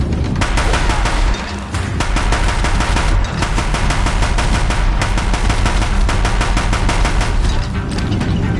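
Deathbringer machine gunfire in Horizon Zero Dawn, a relentless, loud stream of rapid, evenly spaced shots with heavy low-end impacts, hammering without pause across the whole stretch.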